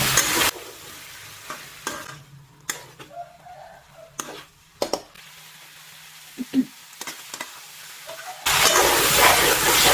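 Rice sizzles and hisses in a pan over medium heat with intermittent scraping and clacking of a utensil stir-frying, a louder sizzle returning at the end.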